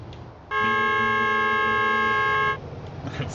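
A loud, steady honk of a vehicle horn in Super Mario Bros. 3 played in a VR emulator lasts about two seconds, with a faint ticking beneath it and quiet noise before and after.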